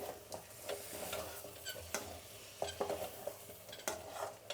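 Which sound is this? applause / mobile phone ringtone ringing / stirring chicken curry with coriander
stirring chicken curry with coriander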